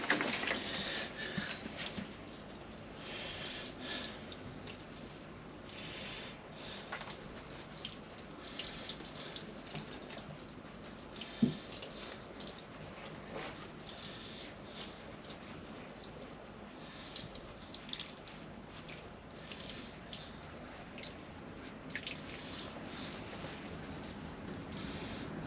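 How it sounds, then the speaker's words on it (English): Tomato seedlings being given a soaking of water, a steady, faint trickle and patter of water on soil that runs continuously for the whole stretch with occasional small splashes and no voices. "All I do now is I'll give them another soaking of water."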